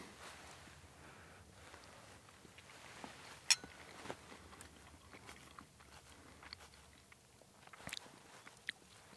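Someone chews a bite of chanterelle mushroom risotto with cheese outdoors, with soft close mouth clicks and a few sharp crunchy bites amid faint rustling and no speech.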